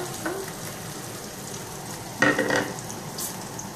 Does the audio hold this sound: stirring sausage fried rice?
yes